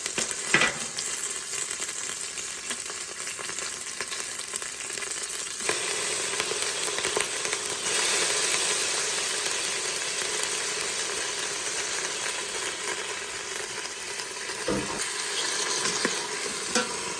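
Onion and tomato pieces frying in an Instant Pot, with a steady, loud sizzle and occasional stirring scrapes heard close up for the whole stretch.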